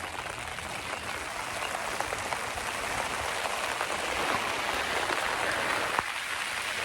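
Steady rain falling on a Zone 3 garden, a constant close hiss of drops with occasional sharper taps and no talk.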